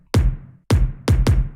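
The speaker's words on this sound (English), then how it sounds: "I've changed the pattern of the drum, but I've also added another layer of the kick, which makes it sound like this." K-pop style drum hits with a layered kick drum strike in an uneven pattern, four punchy, booming thumps with bright attacks, each ringing out briefly before the next.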